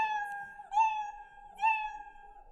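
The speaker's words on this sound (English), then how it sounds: "we don't want to hear 10 of those meows" A cat meow sound effect played by a Scratch program sounds twice in succession: clear, close, synthetic-clean meows repeating at a steady interval with no voices.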